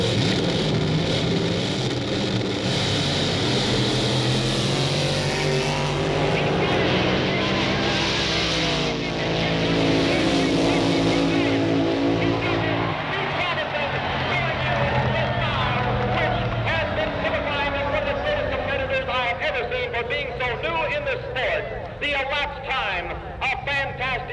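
Drag race cars at the 1962 Winternationals, loud engines roaring and revving up close, then fading into a distant rising drone, under steady commentary.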